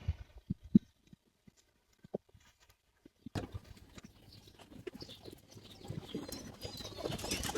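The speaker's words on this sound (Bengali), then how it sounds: "শেষমেশ কবুতরটা এর উপরে এসে নামলো" Pigeon at a loft comes in to land, its wings flapping in a short burst of soft flutters, followed by a dense stretch of rustling, scuffling movement close by.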